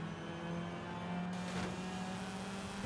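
A Mazda RX-8 rotary engine revs in Forza Horizon 5, a steady droning engine tone that rises briefly midway before settling back, fairly quiet with no talk.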